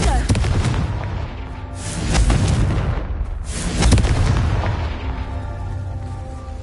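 The Confringo fire spell in Hogwarts Legacy goes off as loud, rumbling explosive blasts that swell and fade in a couple of dense waves against constant game noise.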